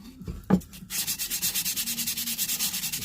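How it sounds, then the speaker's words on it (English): A hand plane body is rubbed back and forth on WD-40-wetted sandpaper, giving steady rhythmic rasping strokes, close and fairly quiet, after a brief knock at the start. "what you can do is squirt the WD-40 on the sandpaper"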